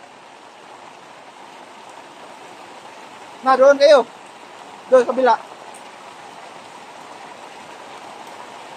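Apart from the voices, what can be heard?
rain dripping through leaks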